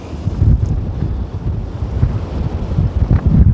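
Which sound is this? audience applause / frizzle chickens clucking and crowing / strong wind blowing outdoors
strong wind blowing outdoors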